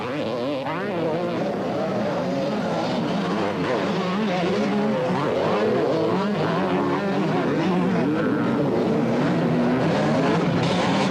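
Several 500cc motocross bikes of about 60 brake horsepower, Kawasakis among them, race at the 1985 Motocross des Nations in Gaildorf, Germany, their engines snarling and wailing loudly and without a break, overlapping as the pack surges past.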